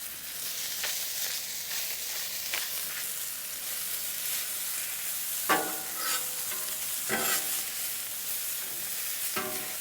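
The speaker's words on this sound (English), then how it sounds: "We'll start up a little mushroom. Give it a drop of oil." Mushrooms frying in oil on a grill, seasoned with salt and pepper: a steady close sizzle and hiss, broken every second or two by sharp scraping stirs and turns, with no voices.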